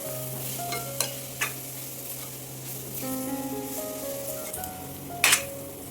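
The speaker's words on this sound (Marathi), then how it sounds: "आता आपण हे छान हलवून घेऊया। छान हे वर खाली करून घेऊया, म्हणजे मसाला चांगला सगळीकडे लागला जातो" Raw jackfruit vegetable being stirred with masala in a pan, with intermittent spoon scrapes and clinks over a light sizzle and a low steady hum, no talking.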